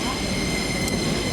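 A TransPennine Express passenger train of three coaches sits at a station, giving a steady loud rumble and hum with a faint squeal, and no voices over it.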